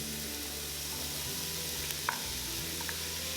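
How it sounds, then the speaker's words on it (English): Celery and shiitake mushroom stir-frying in a hot pan make a dense, continuous hiss of sizzling, close and steady throughout, broken only by one faint click. "stir fry for about 2 minutes until they become soft"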